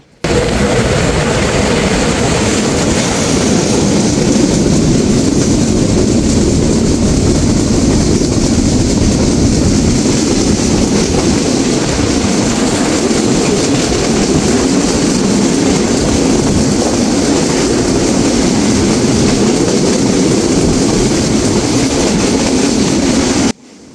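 Dhumketu Express train passing a level crossing near the back of Rajshahi University, a loud continuous rumble and roar of wheels and wagons sustained close by throughout.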